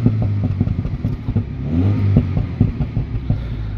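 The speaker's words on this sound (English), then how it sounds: "listen to the exhaust sound of the twin exhaust in the middle" A 2016 MINI Cooper S with a 2-litre turbocharged engine burbles loudly through its centre twin exhaust, close up, with rapid throbbing pulses and brief revving swells.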